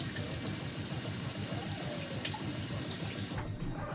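Tap water runs steadily into a sink to rinse a boiled egg, a close, continuous splashing rush that stays even throughout and dips slightly near the end.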